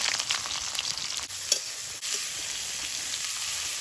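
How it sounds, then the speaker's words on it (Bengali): Cumin and chopped onion fry in oil in a wok with a constant close sizzle, broken by a few stirring scrapes and clicks. "কড়াইতে তেল দিয়ে দেব এবার আলুর দমটা বানিয়ে নেব জিরে পেঁয়াজ কুচি"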